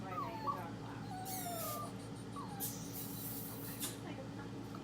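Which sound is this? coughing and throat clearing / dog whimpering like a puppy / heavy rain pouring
dog whimpering like a puppy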